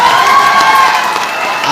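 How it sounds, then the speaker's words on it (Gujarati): A crowd at an outdoor Aam Aadmi Party rally in Jasdan's Shivrajpur, Gujarat, cheers and shouts continuously, loud and close, with a dense mass of voices and little sign of clapping. "જોરદાર તાળીઓથી બ્રિજરાજભાઈને વધાવીએ."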